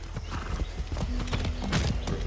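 Rapid hoof clip-clop of a galloping horse in motion in Far Cry 6, fairly close, with a brief whinny and faint background rumble.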